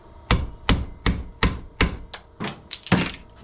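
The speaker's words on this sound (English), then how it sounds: "Nylon hammer." A nylon hammer taps a small metal plate at the end of a light bar, about seven sharp, evenly spaced knocks, close and distinct, with a faint high whine partway through.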